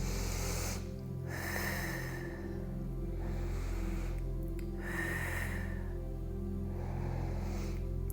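Slow, deep breaths taken while holding a yoga balance pose, two long airy inhale-exhale swells about four seconds apart over a steady low room hum.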